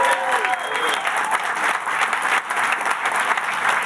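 Audience at a Microsoft product launch event applauds, a steady dense wash of clapping from a large crowd that holds throughout with a brief dip midway.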